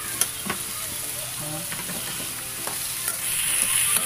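Duck kaldereta ingredients sauté in a pan, with a continuous close sizzle and frequent scraping stirs and clinks of the utensil against the pan.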